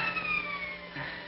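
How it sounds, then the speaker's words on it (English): Police car sirens wail in an old 1948 crime film, a steady wavering tone held throughout the brief moment, moderately loud with a slightly muffled, vintage quality. "Sounds like police sirens. It is the police."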